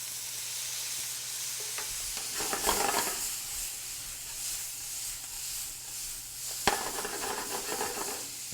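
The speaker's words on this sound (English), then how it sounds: "We're going to hit it with the cider vinegar to deglaze." A pan of bacon and Brussels sprouts hisses softly after cider vinegar is poured in to deglaze, with steady low sizzling, a brief stirring scrape and one sharp clink of utensil on pan.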